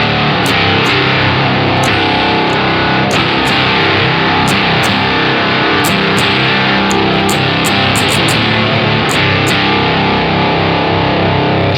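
Electric guitar on the bridge pickup, played through an EarthQuaker Devices Fuzz Master General fuzz pedal into a Twin Reverb amp, grinds out a loud, thick, saturated stream of chugging chords with sharp pick attacks throughout, alone.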